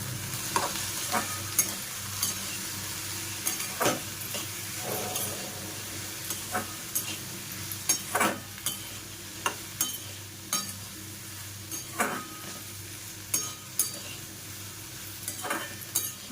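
Okra cooked with onion and tomato is stirred in a pan, giving a soft continuous sizzle with repeated scraping strokes at a steady rhythm, close and moderately quiet, with no talk.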